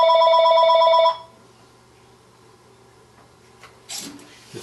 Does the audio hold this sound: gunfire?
no